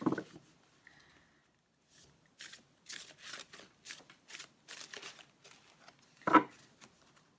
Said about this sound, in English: Can't shuffle these cards too quickly because they're big.